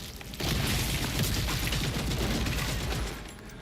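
Sustained rapid gunfire and booming impacts from the video game Gears of War E-Day, a dense, loud fusillade of rifle shots and blasts rolling for a few seconds before tapering off.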